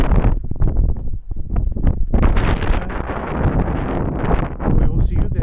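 Strong gusts batter the microphone outdoors beside the South Fork Spillman Creek double stone arch bridge near Sylvan Grove, a loud continuous low rumble with surging buffets and brief lulls, and no talking.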